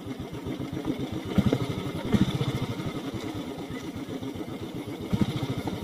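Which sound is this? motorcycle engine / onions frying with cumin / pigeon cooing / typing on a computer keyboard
motorcycle engine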